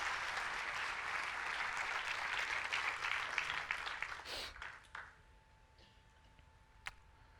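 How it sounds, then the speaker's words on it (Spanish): A church congregation applauds together in a steady, dense wash of clapping that thins and dies away midway, leaving a few scattered claps and quiet room sound. "Denle un fuerte aplauso a Dios."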